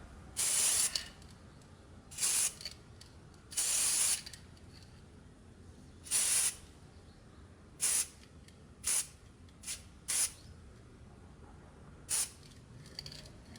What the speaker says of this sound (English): And then I'm going to test out the spray.